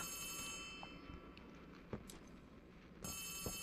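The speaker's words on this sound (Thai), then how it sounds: "เฮ้ย โทรศัพท์มา" Faint electronic telephone ring from the Poppy Playtime Chapter 3 video game, two short bursts of bright ringing separated by a quieter gap, over a dim ambient hum.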